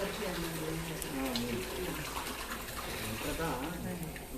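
Water poured into a cooking pot of rice for kuska, about three cups to one and a half cups of rice, giving a steady splashing flow under background voices.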